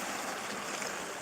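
Waves on a stirred-up Crimean sea roll onto a pebble beach in a steady, close rushing wash with no pause.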